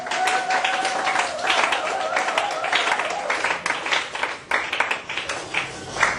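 A church congregation claps and cheers for the Lord, a dense burst of applause and shouts that thins toward the end, with a preacher's voice and a sustained tone running underneath.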